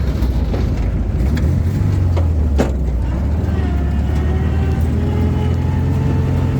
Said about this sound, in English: Sounds just like any other VW, mate.